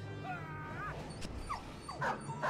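A dog whimpers in the video game Battle Brothers with a few thin, rising yips and whines in quick succession, fairly faint and heard alone.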